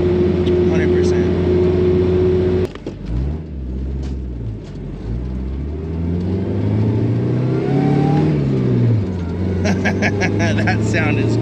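A supercharged Toyota 3RZ engine in a vintage 4WD Toyota Sunrader motorhome pulls through the gears from inside the cab, its note dropping at a shift and then climbing steadily, with some rattles and clicks.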